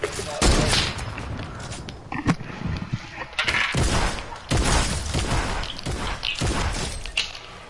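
Pistol gunshots from a Desert Eagle in a video game, loud sharp cracks fired at irregular intervals amid other combat noise, with a voice talking underneath.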